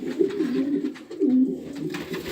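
Racing pigeons coo steadily in a breeding loft, a close, continuous rolling murmur of overlapping calls with rising and falling swells and no talking.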